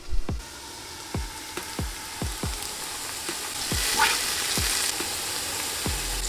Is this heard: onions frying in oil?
yes